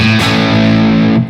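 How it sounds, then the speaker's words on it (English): An electric guitar played through a distortion effect rings out with one loud, sustained, harmonically thick chord that cuts off after about a second. "Now when you put on distortion, like this is what happens."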